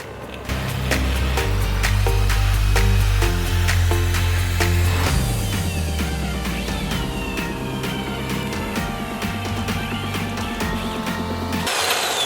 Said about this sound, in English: All right guys, hole is drilled